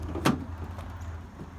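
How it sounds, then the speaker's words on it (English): A single sharp clunk of the rear door latch releasing on a 2008 Dodge Sprinter high-roof passenger van near the start, followed by faint rattles and a low idling hum. "I'll go in the back and actually open the doors"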